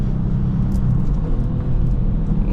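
Close, steady low engine rumble from a 2018 Kia Stinger GT during a late-night drive, a continuous heavy drone without distinct shift blips.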